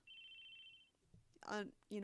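A telephone rings with a steady electronic tone for a sustained stretch, then stops, followed by short bursts of nearby speech.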